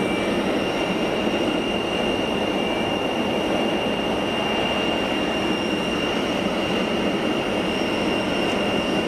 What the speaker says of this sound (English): Clearly the engines aren't yet running, which is why the APU is fired up